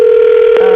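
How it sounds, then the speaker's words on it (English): A telephone dial tone holds steady and loud, broken once by a short keypad tone as a number is dialed; no one speaks. "I'm about to dial the phone number you gave us"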